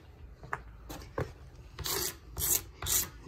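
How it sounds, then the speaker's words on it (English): A razor blade scrapes oxidation off the surface of a very old fresh water tank in a series of short, close rasping strokes, with the last few growing longer and louder. "Let's get a razor blade here."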